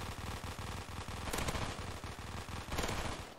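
Rapid automatic gunfire rattles almost without a break in a Call of Duty Zombies match, with dense, loud bursts building up twice, and no voices over it.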